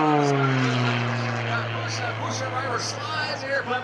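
An aerobatic propeller airplane flies at the 2013 New Garden Airshow, its engine droning loudly then slowly falling in pitch as it passes, with an announcer talking over it.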